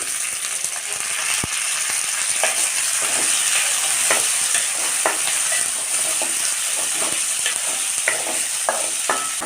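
Cut tomatoes sauté in hot oil in a pan for an ivy gourd leaf chutney, a loud continuous sizzle close by with repeated scraping stirs and ticks throughout.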